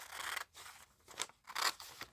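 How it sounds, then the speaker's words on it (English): Big scissors cutting out paper up close, with several quick crisp snips and crunching slices in uneven bursts separated by short pauses. "I'll use my big scissors just to cut out"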